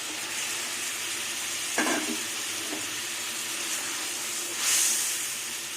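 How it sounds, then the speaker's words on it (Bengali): Fried tengra fish dropped into boiling mustard-and-cumin curry with whole green chillies: a constant close bubbling hiss, a brief louder splash partway through, then a short burst of hissing steam. "এবার ভাজা মাছগুলো দিয়ে দেবো।"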